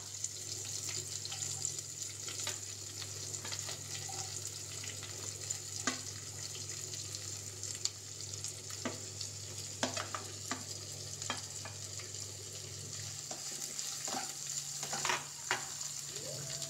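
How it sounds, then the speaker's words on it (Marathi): Onion sautés in oil in a pan for bottle gourd bhaji with a quiet, continuous sizzle broken by scattered light clicks and scrapes of stirring, and no voices. "कांदा परतून घेऊया."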